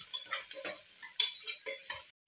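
Dried red chillies, onion and garlic frying in oil in a pan for dal curry, faint brief scraping stirs over a soft sizzle, a few strokes before cutting off abruptly.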